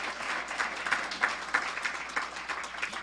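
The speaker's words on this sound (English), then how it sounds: "oh yeah, I'll clap for Roz" A crowd at an annual agency celebration applauds for Roz, a sustained wash of many hands clapping at moderate distance, steady and even with no voices over it.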